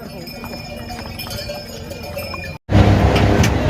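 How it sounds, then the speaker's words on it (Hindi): A horse's hooves clop in a steady rhythm while crossing a bridge on the mountain trek from Sonprayag to Kedarnath, heard close up with bell-like jingles, then a sudden louder burst of outdoor noise after a brief dropout. "हम इस पुल को पार कर रहे हैं घोड़े से"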